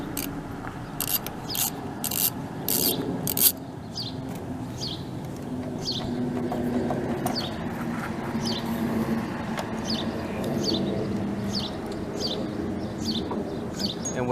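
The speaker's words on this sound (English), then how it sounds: "We're going to disconnect the negative battery terminal." Negative battery terminal on a 2017 Ram 1500 with a 5.7 Hemi being loosened with a ratchet, quick clicking bursts at first, then slower scattered ratchet clicks over a low background hum.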